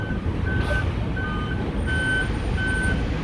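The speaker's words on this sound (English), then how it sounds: "Waste collection trucks stopping at the same building every 5 minutes," A waste collection truck backing up on a city street, its reversing alarm beeping in a steady repeating pattern over the deep rumble of the idling engine, close and continuous.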